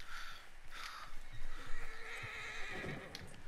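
A horse in a video game lets out a loud whinny, with clip-clopping hooves beneath it, heard close and without speech.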